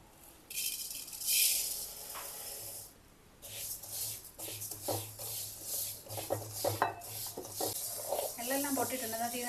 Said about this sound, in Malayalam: അത് നമുക്ക് ചീനച്ചട്ടിയിലിട്ടൊന്ന് വറുത്തെടുക്കാം